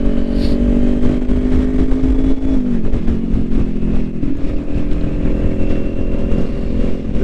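A 2021 Kawasaki Ninja 400 motorcycle engine drones steadily while riding on the street, loud and close, its pitch dipping briefly as the rider shifts and then holding a sustained hum under wind noise.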